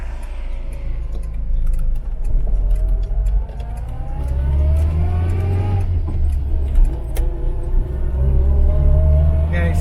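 An Austin Allegro drives along a rough road, its engine droning steadily from inside the cabin with rising gear whine, interior rattles and clicks, and someone talking over it.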